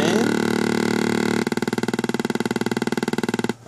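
A circuit-bent talking pawn from the Sorry board game gives out a loud buzzing, fart-like electronic drone, first smooth, then chopped into rapid regular pulses before stopping.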